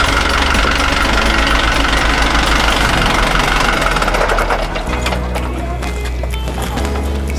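A mobile emergency water treatment vehicle's engine idles loudly and steadily, with a low rumbling drone and a faint rhythmic knock running throughout, no voices.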